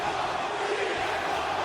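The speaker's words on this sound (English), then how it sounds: "The crowd already going mental." Video game crowd in WWE 2K24 roaring at full volume for a wrestler's surprise return, a dense, steady wall of cheering with no breaks.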